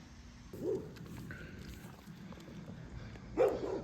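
A dog barks twice in the distance, a short bark early and another near the end, over a low outdoor rumble.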